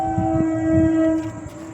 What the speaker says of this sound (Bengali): এই দেখো ট্রেন ঢুকে গেছে।